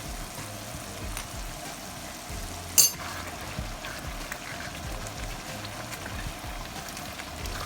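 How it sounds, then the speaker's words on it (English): Corned beef and egg stew simmers in a pot, a low, steady bubbling and faint sizzle with a brief clink partway through, no voices. "I will let it simmer a little bit and then I'm going to add my vegetables."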